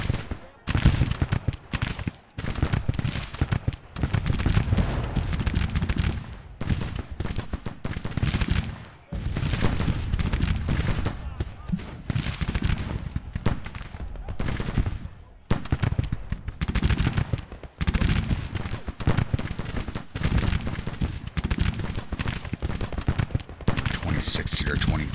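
Massed Civil War musket volleys crackle almost nonstop in a Grand Tactician strategy battle, dense rolling gunfire with brief lulls and artillery-like booms, loud and continuous throughout.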